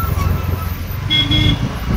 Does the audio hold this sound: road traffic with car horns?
yes